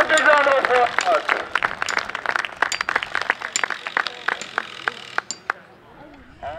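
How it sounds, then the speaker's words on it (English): Audience at a lumberjack show claps and cheers for a competitor, sharp individual claps over crowd noise and an announcer's voice, thinning to sparse claps before fading. "Give him another big round of applause"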